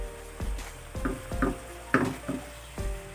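Onion and cashew paste frying in a pan for a chicken curry, with repeated stirring strokes and scrapes over a steady low sizzle, close and moderately loud, no talking.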